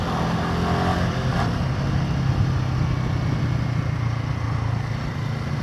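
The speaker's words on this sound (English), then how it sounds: "clutchless changes on this are easy. 4th blip, 3rd blip," A Royal Enfield Himalayan 450 motorcycle engine runs steadily through clutchless downshifts, its low rumble holding close and even with only slight swells where the throttle is blipped between gears, no voices over it.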